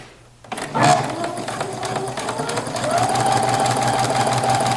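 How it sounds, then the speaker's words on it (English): Close, loud sewing machine stitching tucks in fabric: the motor starts, then runs as a steady mechanical whir with a rapid needle rhythm that climbs slightly in speed and holds. "if you need to, you slow your machine down, run through that way"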